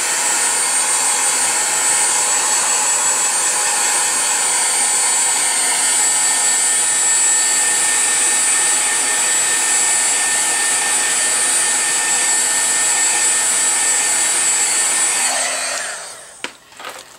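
A hair dryer blows steadily on a watercolor painting of feathers, a loud continuous whooshing whine that runs unbroken for about fifteen seconds before shutting off with a couple of small knocks.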